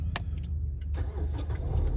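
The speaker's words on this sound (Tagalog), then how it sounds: "Pag gusto mong start, apak sa brake, isang pindot." A Toyota Vios starts with a push of its start button: a sharp crank catches, then the engine settles into a steady idle, loud and close.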